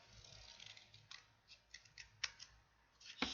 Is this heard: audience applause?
no